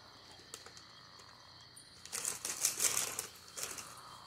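A burst of rapid, papery fluttering of birds flapping their wings in a film, rising suddenly after a quiet stretch and repeating in loud, close flurries.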